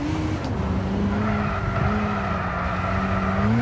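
Race car tires squeal continuously during a warm-up run in Gran Turismo, a steady, close, loud screech over engine drone with pitch shifting slightly.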